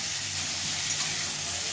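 Onion, tomato and slit green chilies fry in a pan with a steady, even sizzle that holds at one level throughout, with no voices over it.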